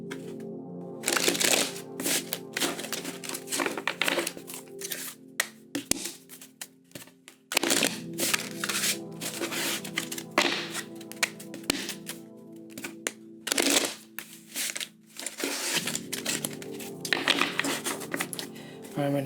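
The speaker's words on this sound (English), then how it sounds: "we're going to do 3 shuffles" A deck of tarot cards is shuffled by hand three times in separate bursts of riffling and slapping card sounds, close and crisp, with short pauses between the passes and no talk.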